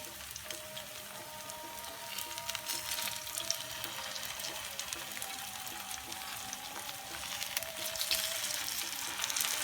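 Potato chapli kababs fry in oil over a low flame, giving a soft, steady sizzle with faint crackles that swell slightly near the end.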